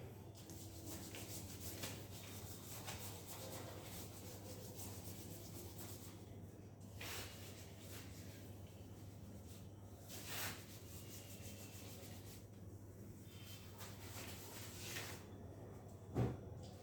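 Writing rubbed off a board during a lesson on management accounting, a faint, steady scrubbing texture running continuously over a low electrical hum, with a few brief louder swipes.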